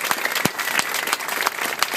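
A crowd applauds at a rally to save a hospital in Glen Cove, a steady, dense patter of clapping throughout, fairly close and loud with no talk over it.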